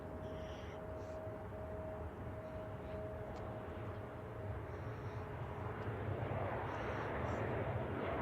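An Alaska Airlines Boeing 737-900ER arriving from Portland at San Francisco Airport passes with a steady jet roar that swells gradually toward the end, a faint whine running over the rumble.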